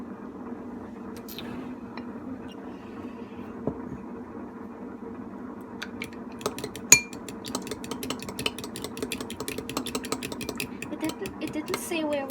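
An egg beaten in a bowl with salt and nutmeg: a utensil clinks and taps against the bowl, thickening into quick, irregular clicking in the second half over a steady low background hum.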